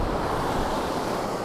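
Sea surf washes onto a shore as the tide rises, a loud continuous rush of breaking waves with wind and no voices.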